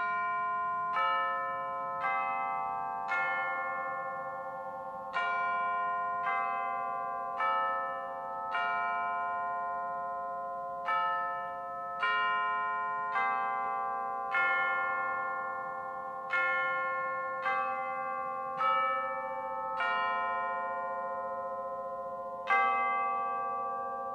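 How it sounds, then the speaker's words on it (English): Church bell chimes striking in a theatre production of A Christmas Carol, a clear melodic sequence of over a dozen evenly spaced bell tones, each ringing and decaying before the next, heard alone without speech. "the chimes of a neighboring church began"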